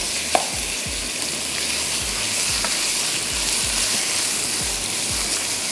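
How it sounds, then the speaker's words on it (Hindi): Minced meat keema frying in a pan, a loud steady close sizzle with rhythmic low scrapes of the spatula repeating every half second or so. "थोड़ा सा कीमे को भूनते हैं"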